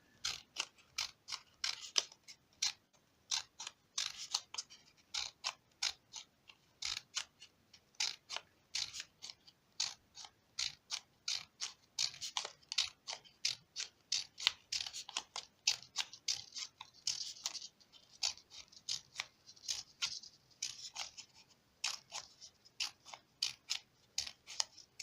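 Scissors snip paper for a paper flower in quick, crisp, repeated cuts, close up and fairly quiet, with short pauses between bursts of snipping and no talking.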